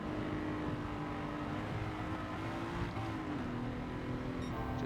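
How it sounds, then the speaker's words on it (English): A Jaguar F-Type R in Gran Turismo 7, racing on the Tokyo Expressway, hums along at low RPM with a steady, slightly wavering engine tone, quiet and continuous with no talk. "The engine sounds good, but it's a low RPM jobber."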